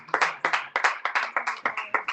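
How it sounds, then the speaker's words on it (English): Applause at a fashion and sustainability event, heard as a short run of about a dozen distinct, fairly quiet claps in a quick, regular rhythm, with few hands involved. "Let's get a round of applause for you two."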